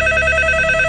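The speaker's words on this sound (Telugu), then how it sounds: "వాడి ఇంటి నెంబర్ కలిపి నేను మాట్లాడతాను" A steady electronic telephone tone, loud and continuous for under a second, as a home phone number is dialed in a Telugu film scene.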